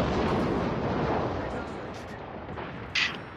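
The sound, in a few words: naval artillery fire in World of Warships video game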